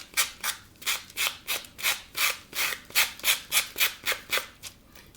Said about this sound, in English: So now I'm going to use my sanding block.